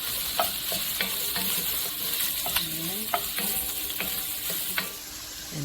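Onion, carrot and mushrooms sauté in melted butter in a pot, giving a steady soft sizzle broken by occasional spoon stirs and light scraping knocks, close and fairly quiet with no talking.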